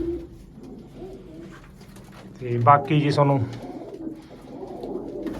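Pet breed pigeons coo softly in an open roosting area, a short burst of throaty calls mixed with someone talking over them.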